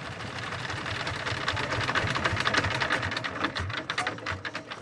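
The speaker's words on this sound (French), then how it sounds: "Son moteur est en fait une vieille pompe d'irrigation." An old irrigation pump engine powering a boat in Bangladesh chugs and rattles continuously with a dense, clattering mechanical rhythm, loud and nearby, with no voices.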